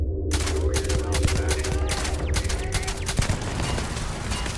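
Rapid, loud, continuous bursts of turret fire in Starfield, with dense repeated shots over a low mechanical hum and a sharp impact near the end.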